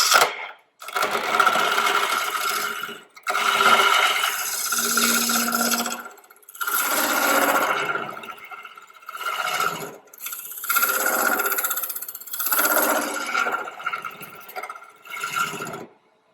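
A square carbide tool turns cedar wood on a lathe in a series of rough, scraping cutting passes of a few seconds each, separated by short silences, loud and close with no talking.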